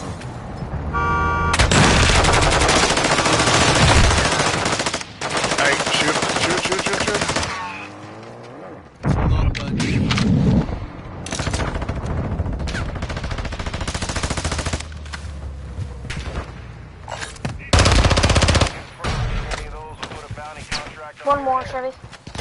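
Gunfire in the DMZ video game: sustained bursts of loud, close automatic fire and scattered single shots, with pauses between volleys and occasional vehicle noise, while players talk over it.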